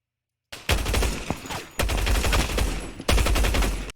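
Rapid bursts of automatic gunfire from a first-person shooter video game sound close and loud, in three dense volleys broken by brief gaps, starting abruptly after a moment of silence.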